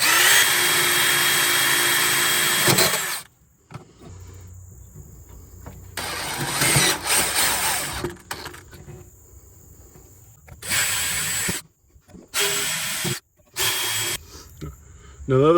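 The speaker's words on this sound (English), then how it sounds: "Now you always want to be sure wherever you're drilling, you're not going to hit any power lines or anything" A power drill bores holes in an RV wall for a propane regulator, with loud high-pitched whines in short separate bursts of varying length, close up, with quiet pauses between them.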